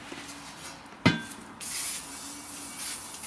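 A short hiss of water repellent oil sprayed from an aerosol can onto scythe blades, preceded by a sharp metallic tap, the spray sounding as a brief close burst in a quiet room.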